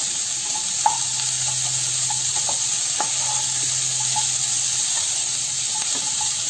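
Onions and capsicum fry in a pan over a medium flame, a steady close sizzle with light scraping taps of stirring scattered through, no one talking.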